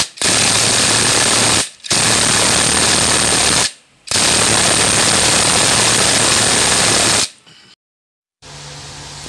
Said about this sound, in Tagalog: tapos higpitan na natin to mga bro gamit ang ating impact wrench